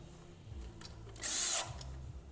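While an electric scooter is being assembled, a power tool drives a bolt in with one brief, fairly loud whirring burst against a quiet room background.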